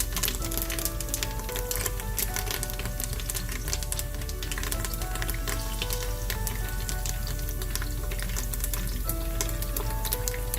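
Curry leaves spit and crackle in hot oil inside a pressure cooker, a continuous close sizzle studded with rapid sharp pops throughout, with no talking.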